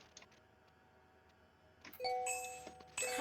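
Fire-test warning bell in an H145 helicopter flight game sounds as bright electronic chime tones from about two seconds in, repeating and growing louder near the end, with no talk.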